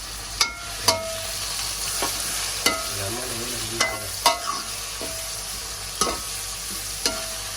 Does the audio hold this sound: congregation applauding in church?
no